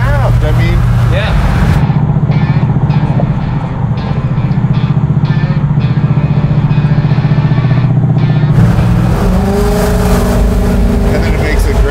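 A Ford F100 truck's Coyote V8 engine with a custom TIG-welded exhaust roars loudly and steadily under heavy throttle, a deep sustained rumble that drops away briefly near the end, with voices faintly audible.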